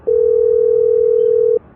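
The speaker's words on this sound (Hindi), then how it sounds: "रुको गोलू के दोस्तों को फोन करता हूँ।" A loud, steady telephone dial tone as a call is placed on a phone, one unbroken pure hum lasting about a second and a half, then cut off.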